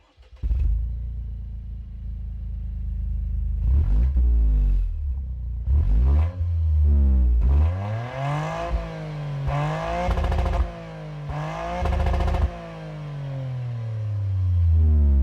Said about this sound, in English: Now, more importantly, check out the exhaust, Craig.